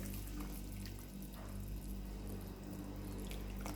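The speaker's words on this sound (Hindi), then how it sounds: "अब इसमें मैं डाल दूँगी ये लिक्विड" A cornflour-and-water slurry poured into a pan of chicken Manchurian, giving a soft watery trickle and light sizzle over a steady low kitchen hum, with no talk.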